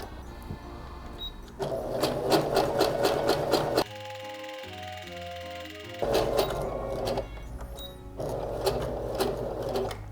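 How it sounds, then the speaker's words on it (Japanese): A domestic sewing machine runs in steady bursts, stitching homemade mask fabric with a fast, even needle rattle, stopping briefly between runs; one pause carries a soft tonal whir from the machine. "これをまず縫い合わせていきます。"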